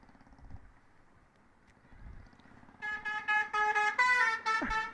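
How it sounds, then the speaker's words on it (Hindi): A deep, loud truck horn blares in several long blasts close by, following a stretch of quiet road rumble on a mountain road in Uttarakhand. "पीछे ट्रक आ रहा है, बड़ा बढ़िया, इसने हॉर्न बजाया रहा है।"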